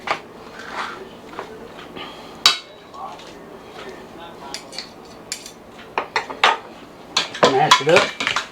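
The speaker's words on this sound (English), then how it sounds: "I'm just gonna take a real tater masher, mash them up" Potatoes mashed with a metal potato masher in a pot, with irregular clanks and clinks against the pot that grow busier toward the end, close and moderately loud, while someone talks over part of it.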